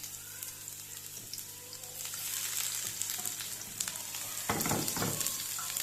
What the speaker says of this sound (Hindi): हमने सबसे पहले ये इसमें लहसुन और अदरक थोड़ा सा इसको फ्राई करेंगे